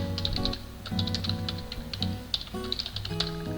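Rapid keystrokes clatter on a computer keyboard as text is typed into a PowerPoint text box, a quick irregular run of crisp clicks in bursts with brief pauses, close and clear with no talking.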